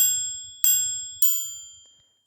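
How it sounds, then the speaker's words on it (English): A bright synthesized bell ding from an FL Studio hard Glo-style trap beat, struck three times with the second and third hits landing close together, each ringing out and decaying over a soft low thumping pattern. "The ding,"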